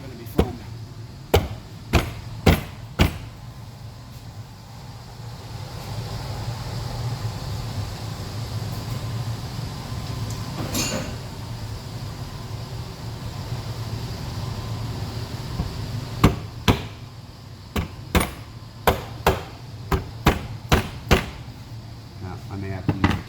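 Sharp metallic hammer blows drive a bearing into a Yamaha Grizzly 125 ATV transmission, close by: a quick burst of strikes at the start, one lone hit midway, then a denser run of taps near the end over a low background hum.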